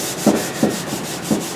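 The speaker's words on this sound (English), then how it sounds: "Fresh sandpaper's pretty good though." Fresh sandpaper scrubbing across a damaged fiberglass bumper on an R32 under repair, three distinct rasping strokes in steady rhythm, close and fairly loud, with no talking.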